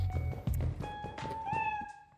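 A cat meows repeatedly in the Lethal Company video game, close and loud, with a drawn-out rising yowl over scattered thumps and footstep-like knocks.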